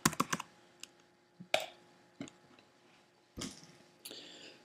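Quiet, close keystrokes on a computer keyboard as a code is typed, heard as a quick cluster of clicks followed by scattered single taps with pauses between.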